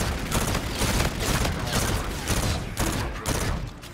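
Rapid automatic fire from an R3K assault rifle during a Team Deathmatch match in Infinite Warfare, a dense continuous burst of shots running through the whole span with brief dips, with some talk mixed in.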